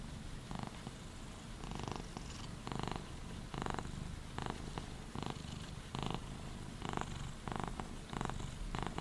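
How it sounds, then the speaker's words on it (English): A pet cat purrs close up in a soft, steady rhythm of breathy pulses, each inhale and exhale clearly audible, continuous for several seconds with no talking. "Cute kitty."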